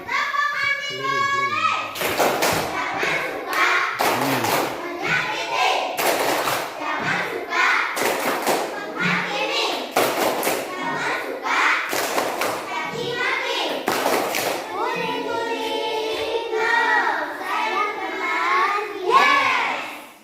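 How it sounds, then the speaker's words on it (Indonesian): Schoolchildren in a classroom perform the anti-bully clapping routine, sharp rhythmic group claps in distinct bursts between chanted children's voices, lasting about twenty seconds. "silakan Rafa dipimpin teman-temannya untuk kita melakukan tepuk anti bully"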